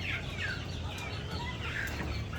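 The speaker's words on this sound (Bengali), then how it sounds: "আমাদের এখানে কিছু দেশি মুরগি রয়েছে।" Desi chickens on a poultry farm cluck and chirp softly and steadily over a low background hum, several birds calling at once with no talk.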